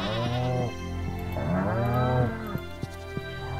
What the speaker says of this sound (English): See our cows and goats.